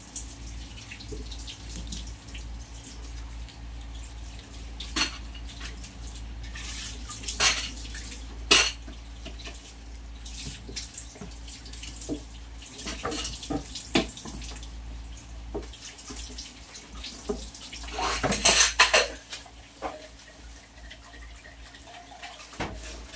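Dishes and plates being washed by hand under a running kitchen tap, with steady water flow and scattered clinks and clatters of crockery and cutlery, a louder burst of splashing and rattling near the end.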